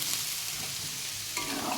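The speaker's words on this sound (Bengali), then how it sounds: "এখানে উচ্ছে ভাজা হচ্ছে," Bitter gourd fries in a pan with a bright, steady sizzle up close, a stir or scrape joining near the end, no one talking.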